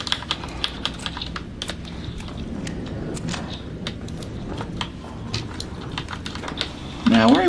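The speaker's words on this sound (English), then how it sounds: "Keyboard switches sound satisfying." Mechanical keyboard switches clack in rapid, uneven bursts of typing, close and crisp, continuing steadily throughout with a brief louder shuffle at the very end.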